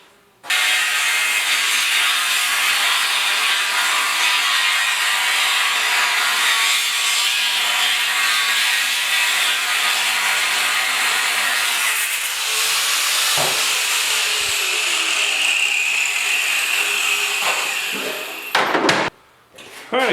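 Metal stock for a handmade rear bumper on a 1956 Mercury is cut to length with a power saw, a loud continuous harsh grinding roar lasting nearly twenty seconds before stopping with a few clanks at the end.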